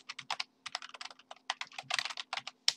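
Fast typing on a computer keyboard while filling in an Excel spreadsheet, with quick clusters of crisp close keystrokes broken by brief pauses, no talking.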